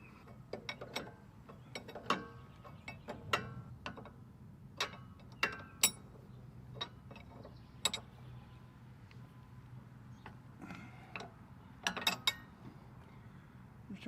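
Someone tightens the tie rod nut on an L series Kubota tractor, producing faint, irregular metallic clicks and ratcheting ticks close by, spaced unevenly through the clip over a quiet background, with no talking.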